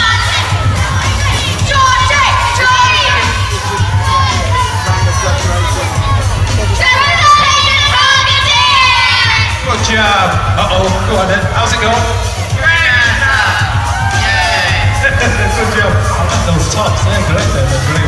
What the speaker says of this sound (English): Come on, cheer your team on!